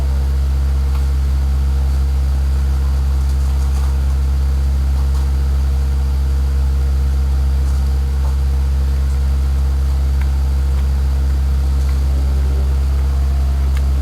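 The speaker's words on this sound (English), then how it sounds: "Drivers, start your engines!" IndyCar race car engines idling together in a racing video game at Talladega Superspeedway, a loud, steady low drone that holds constant throughout with no talk.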